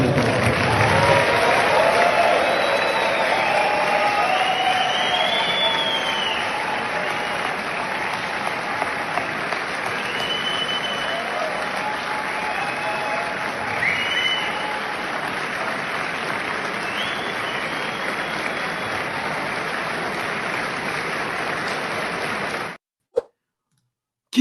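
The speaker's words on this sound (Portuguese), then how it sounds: "Uma salva de palmas." Audience applause for minister Paulo Guedes at a political gathering, a long steady wash of clapping with scattered cheers mixed in, holding at an even level for over twenty seconds before cutting off abruptly.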